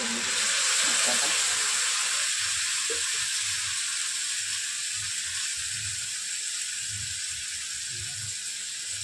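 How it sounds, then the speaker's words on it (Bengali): Gravy for garlic chicken frying in a pan with fried onions and spices, a steady bright sizzle and hiss lasting throughout while a voice talks faintly underneath. "এবার গ্রেভিটা একটু ভাজতে দেবো"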